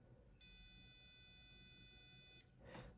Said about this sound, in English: you also hear a buzzer indicating that the alarm has been activated